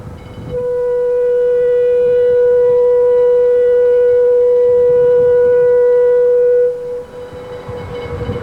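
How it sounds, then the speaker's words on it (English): A warning siren at a road bridge sounds one loud, steady, unwavering tone that holds for about six seconds and then cuts off, leaving quieter background noise. "the opening procedure begins with the sounding of a warning siren"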